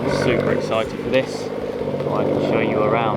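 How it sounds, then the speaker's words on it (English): A BMW M140i engine rumbles steadily in the background while someone talks over it at close range. "you might hear a very familiar engine in the background."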